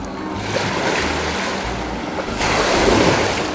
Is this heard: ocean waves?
yes